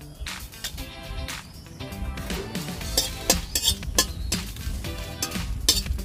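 Five dry red chillies frying in a dry karahi, with metal utensil stirring and scraping, clinks against the pan and a soft sizzle, close and fairly busy throughout.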